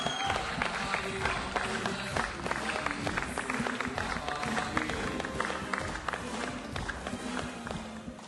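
Crowd applause at a Bollywood film music launch for Special 26, a dense steady clatter of many hands filling the hall, with a voice briefly audible beneath.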